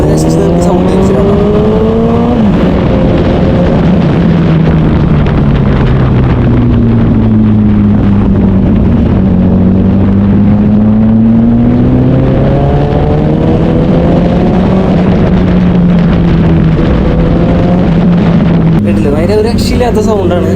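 A motorbike engine and exhaust on an open road, ridden on the way to an auto show, roars loudly and steadily, its pitch rising and falling as the rider accelerates and eases off, with constant wind rush on the microphone.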